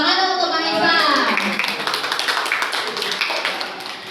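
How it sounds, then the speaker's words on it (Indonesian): A classroom group of children claps for a boy named Mahesa, a brisk patter of many hands following a short burst of speech at the start and gradually tapering off. "Tepuk tangan dong untuk Mahesa"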